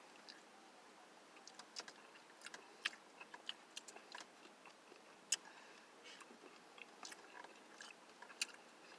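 Someone eats a Dairy Queen mini Snickers Blizzard with chocolate and caramel; quiet, close chewing and soft crunchy bites click irregularly over a low hush, with no talking.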